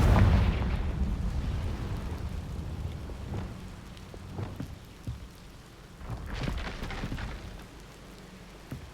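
Confringo fire spell blasts in Hogwarts Legacy go off as several booming, rumbling bursts over a low, thunder-like background roar, with sharper impacts spaced out across the stretch.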